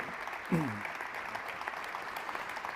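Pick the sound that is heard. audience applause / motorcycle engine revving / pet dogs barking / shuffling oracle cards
audience applause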